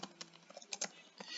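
Typing on a computer keyboard while entering patient details at a front desk, a quick, irregular run of light clicks and taps, close and fairly quiet, with no voices.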